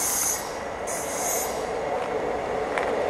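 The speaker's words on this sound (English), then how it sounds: "The next train at platform 3 does not stop here." A non-stopping train rumbles through Smethwick Galton Bridge station at steady volume, wheels hissing and squealing on the rails, with a brief high screech near the start.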